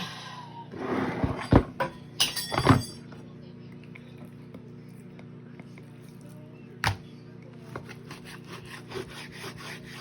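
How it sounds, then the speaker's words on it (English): Knife slicing meat into thin pieces, a burst of rough sawing strokes in the first few seconds, then mostly quiet with one sharp cut near seven seconds and faint scraping afterward. "I'm gonna cut this meat into smaller slices so it will cook really"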